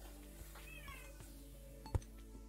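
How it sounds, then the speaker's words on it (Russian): A discontented cat meows once in a short, rising-and-falling call, fairly faint against a quiet room hum, with a sharp tap shortly after and no talking. "Кот у меня недоволен"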